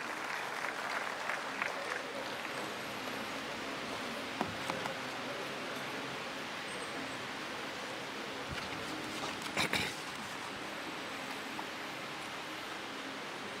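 An audience at a university investiture ceremony in Ghana claps in steady, sustained applause that sounds distant and fairly faint, continuing without pause.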